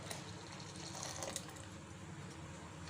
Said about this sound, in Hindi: इसके अंदर जो है बाकी का 1 गिलास दूध शामिल करेंगे।